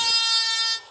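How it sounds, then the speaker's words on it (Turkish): A single loud, sustained vehicle horn blast in PUBG Mobile, with a bright, buzzy tone, holding steady for most of a second before cutting off abruptly. "Bas kornaya bas."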